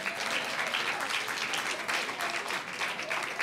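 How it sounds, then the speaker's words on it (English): Steady applause from an audience at a board meeting, sustained and dense for the whole stretch with no gaps and no talk over it. "So let's give Terry another big round of applause."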